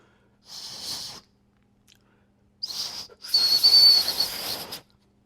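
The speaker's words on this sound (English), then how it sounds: "That's supposed to be a survival whistle" Small survival whistle built into a fixed-blade EDC knife being blown: breathy, airy toots, one short blast then a longer sputtering one, weak and hissy rather than a clean tone, close up.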